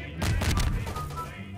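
A bomb goes off beneath the map in Garry's Mod, a loud booming blast followed by a rolling rumble of crackling explosions that gradually fades.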